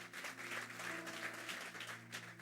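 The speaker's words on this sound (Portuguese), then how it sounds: "Eu quero que você aplaude ao Senhor pela vida dela." Congregation applauding during a church service in Lisbon, a soft, even patter of many hands clapping with a low hum underneath, heard from a distance.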